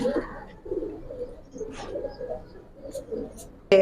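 Silver pankhi military pigeons give low, soft coos in a loft, murmuring intermittently under nearby talk, with a brief louder sound at the very end.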